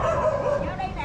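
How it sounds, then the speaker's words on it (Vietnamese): Dogs bark and yip near a Vietnamese street food stall, loud and close, mixed with people talking. "all the dogs hate me"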